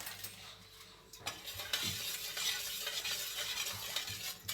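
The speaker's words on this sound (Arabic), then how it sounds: "افضل اقلب كده." A spoon stirs salted water in a container for homemade pickled peppers, giving a continuous close swishing with occasional light clinks and no talking.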